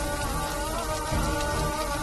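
Steady rain falls in a dense, even hiss with a constant wash of drops and no pauses, moderately loud and without voices.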